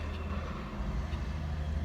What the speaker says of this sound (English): sorry, noisy truck.